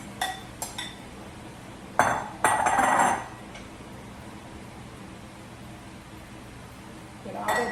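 Shrimp, peas, carrots and onion tipped into a skillet with egg for shrimp fried rice, giving a few short clinks and a brief sizzling scrape of food hitting the pan, then quiet kitchen background.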